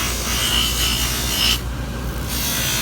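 A buffing tool high-shines the periphery during a trim and polish job, giving a steady, close rubbing hiss that runs continuously through the whole clip with one brief softer patch partway.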